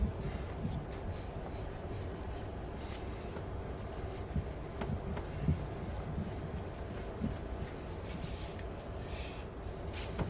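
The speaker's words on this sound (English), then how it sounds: "Just trying to evenly work that paper down onto the stump." Printing paper, heavy 175 gsm Rives BFK, being rubbed down by hand onto an inked woodcut block, giving a steady, close, continuous scratchy rubbing and shuffling with no talking.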